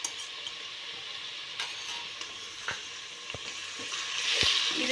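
Ginger, garlic and green chili paste fries in a pan for a veg pulav, a steady close sizzle with a few sharp clicks of a utensil stirring through it, growing slightly louder toward the end.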